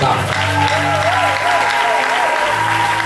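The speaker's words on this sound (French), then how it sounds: "Acclamons le Seigneur." A church congregation applauds the Lord with steady, dense clapping that fills the room, and a sustained tone plays beneath it.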